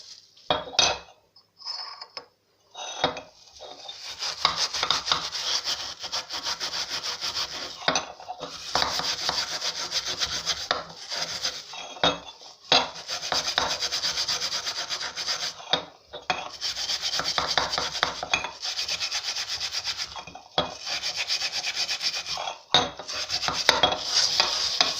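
A large gas stove burner cap is scrubbed and washed by hand with metallic scraping, rubbing and clinking of metal, sustained in irregular bursts with brief pauses over about twenty-five seconds, close and without talking.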